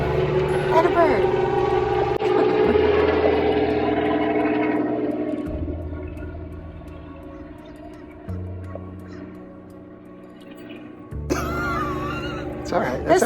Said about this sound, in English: We have a helicopter flying over.